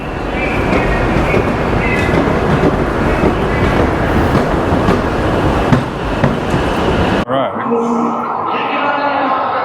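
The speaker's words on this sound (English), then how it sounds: "here we have our Shinkansen, crazy looking train, riding along" A Shinkansen bullet train rushes past loudly with a roaring, windy rumble for several seconds, then cuts to quieter interior hum with faint voices.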